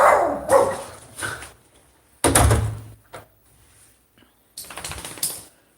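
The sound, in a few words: dog Prince barking at night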